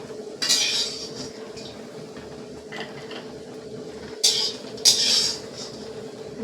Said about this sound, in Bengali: এবার বড়িগুলোকে একটা প্লেটে তুলে নিচ্ছি